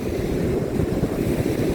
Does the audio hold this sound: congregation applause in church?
no